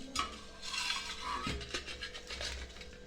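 Fried potatoes for dum aloo being lifted out of a pan, with close scraping and clinking of a metal utensil against the pan over a low background hiss; no one speaks.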